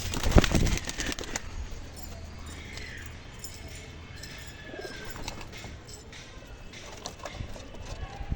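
Pigeons let out into the sun burst into a quick flurry of wing flaps at the start, followed by faint cooing and movement outdoors while someone talks.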